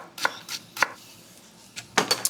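Knife slicing a daikon radish into thin pieces on a cutting board, a handful of crisp separate chops with irregular gaps, close and fairly quiet with no talk.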